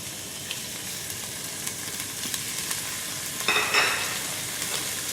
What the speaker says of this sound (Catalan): Per fer el fumet el primer pas és torrar el peix.